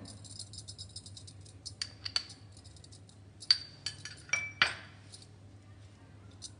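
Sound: mixing spices into paneer tikka marinade in a bowl

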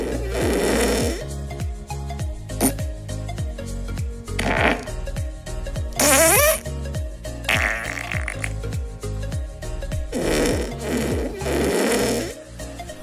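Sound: fart sound effects from the Touch Fart MacBook Touch Bar app

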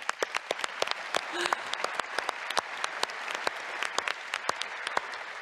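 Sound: audience applause at conference keynote

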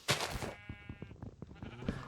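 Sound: sheep bleating in Minecraft video game

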